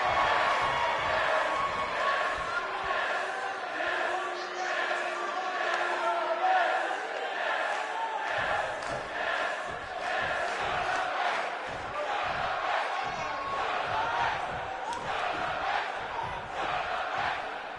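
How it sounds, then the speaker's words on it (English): Arena crowd in the WWE 2K19 wrestling video game, a dense roaring mass of voices that swells in rhythmic bursts like chanting, steady and loud for the whole stretch with no talk over it. "You can hear the crowd chanting."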